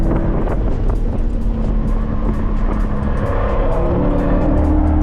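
A Chevrolet C8 Corvette Z51 with track alignment accelerating hard out of a corner at the Streets of Willow circuit, its engine a loud, steady, rising roar heard from inside the car with heavy wind rush and no talking.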